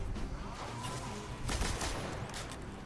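Scout rifle gunfire in Destiny during a Legend-difficulty strike against Vandals, a dense, moderately loud stretch of repeated shots and impacts over constant game noise.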